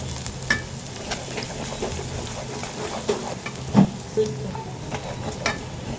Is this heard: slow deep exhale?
no